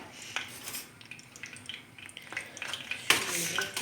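A spoon stirs yogurt in a bowl, giving soft scraping and a few sharp clinks against the dish, ending in a louder clatter, with faint talk in the background.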